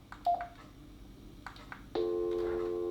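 A BT Digital Voice phone handset with fresh batteries gives short electronic beeps, then a sustained steady tone as it syncs, close and alone.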